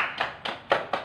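Children in a classroom clap for a classmate who answered, giving four distinct, evenly spaced claps, close and moderately soft, with no talking.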